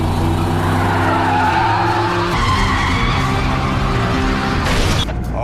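Tires screech and skid during a police car chase in a film, a loud continuous squeal over roaring engine noise that runs throughout and ends with a sharp thump.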